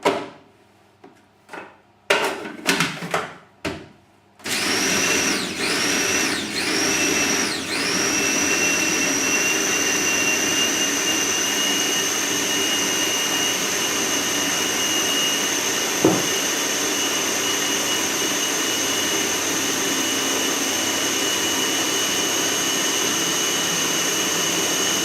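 A food processor whirs steadily through sprouted seed bread dough, a loud, sustained motor drone after a few short pulsing bursts at the start, with pitch dipping briefly as the blade catches the dough.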